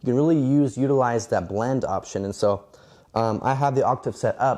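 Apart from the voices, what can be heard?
No everyday noise stands out behind the speech.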